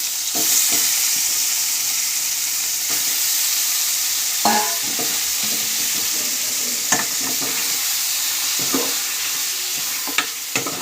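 Chicken pieces fry in a pan with a steady, close sizzle and hiss, broken by occasional knocks and scrapes from stirring, holding an even loudness throughout.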